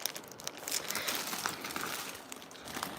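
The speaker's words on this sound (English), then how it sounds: "I'm trying to unwrap something" Someone unwraps a crinkly package up close, with continuous plastic crinkling and rustling and a few sharper crackles, fairly quiet.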